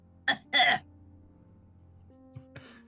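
Two short coughs sound close up, one right after the other, followed by quiet and a few faint knocks.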